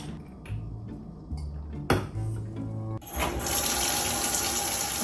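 Water runs steadily from a tap into a bathtub being filled for an Epsom salt bath, a loud continuous gush that starts partway through after a few soft clinks and knocks.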